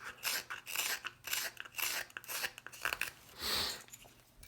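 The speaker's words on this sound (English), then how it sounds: "kind of twirling my knife like this through the cut" A knife carves the keel of a wooden spoon, twirling through the cut in a quiet series of short, repeated rasping strokes heard up close.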